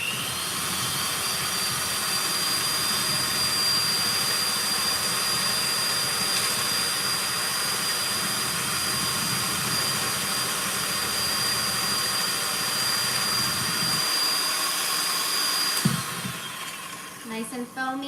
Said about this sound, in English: I will try to get you closer to see the whipping egg whites.